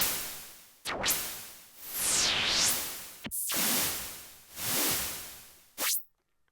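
Swooshing sound effects from a Denon DJ SC Live controller, four separate noisy sweeps each ending in a short reverb tail, loud and alone with brief gaps between them.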